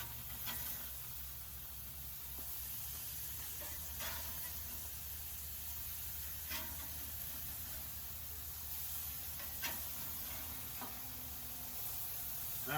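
Flipped burger patties sizzle in a pan or on a griddle, a steady close hiss of frying fat with occasional faint pops, continuing alone without talk.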